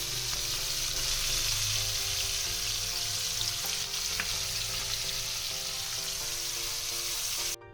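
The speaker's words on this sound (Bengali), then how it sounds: "আমি বেরেস্তাটা ভেজে তুলে দিচ্ছি" Sliced onions deep-frying in hot oil for birista, a dense, even, rain-like sizzle that holds loud and steady throughout, close up and without speech, before cutting off abruptly at the end.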